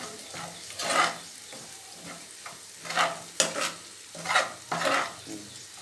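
A utensil stirs ivy gourd curry in a hot pan, giving several scraping strokes over a steady low sizzle, close and fairly loud, with no voices.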